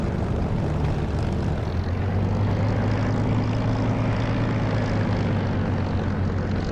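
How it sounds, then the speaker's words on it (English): A Spitfire engine drones steadily while taxiing in a flight simulator game, a loud, continuous propeller hum with a low throbbing tone and no speech. "The sound of the engine is absolutely lovely."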